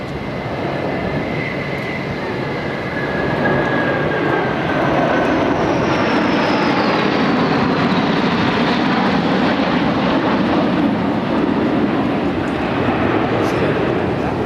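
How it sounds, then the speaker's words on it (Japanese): F-14 Tomcat jets fly in formation at an air show in Atsugi, a loud sustained jet roar that builds and holds as they pass, with a commentator's voice over the noise. "そして今度右手の方から F14 トンキャットのフォーメーション飛行です。"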